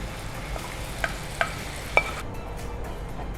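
Moong dal stirred and frying in spiced masala in a pan, a soft steady sizzle with a few sharp scrapes of a spoon against the pan, then the frying quiets toward the end.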